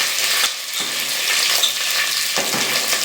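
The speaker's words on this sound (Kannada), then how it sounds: "ಈಗ ಇದನ್ನ ಚೆನ್ನಾಗಿ ಫ್ರೈ ಮಾಡೋಣ." Crushed garlic, curry leaves and finely chopped onion sizzle steadily in hot oil in a pan, a close, continuous frying hiss with faint stirring scrapes and no talk.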